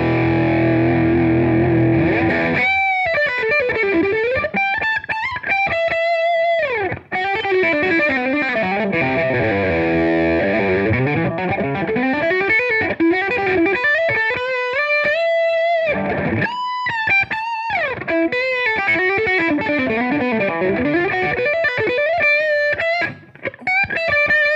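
Overdriven electric guitar run through an Angry Charlie and a Blues Driver overdrive pedal, played as sustained distorted chords and bending lead lines that rise and fall, loud and continuous with brief gaps, no talking.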